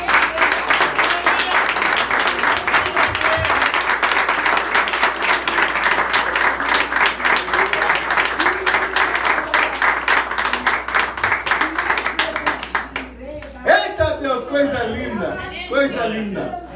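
Church congregation at a worship service claps hands together in a long, steady rhythmic round, fairly loud and even, fading out near the end as voices and a speaker's talk take over.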